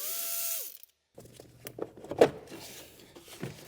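A ratchet works a bolt loose on a Lexus LS400 engine, a rapid run of clicking ratchet strokes, close up, following a brief whirring tool sound at the start.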